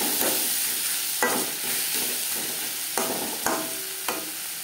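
Onion, tomato, turmeric and salt sizzle in a pan for a bata fish curry, under a continuous frying hiss, while a spatula stirs with several distinct scraping knocks spaced unevenly throughout.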